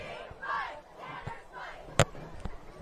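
A crowd in the stands at a varsity high school football game between Peabody and Beverly, sending up rising and falling waves of cheering and shouting with one sharp knock partway through.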